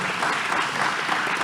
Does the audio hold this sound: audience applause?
yes